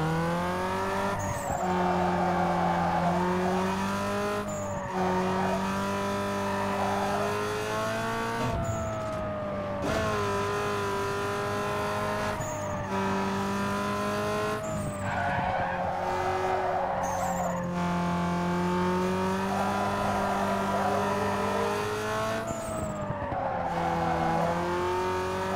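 A race car in Need for Speed Underground 2 revs hard around a short track, its loud engine rising and dropping through gear shifts, with tyres squealing and skidding through the turns throughout.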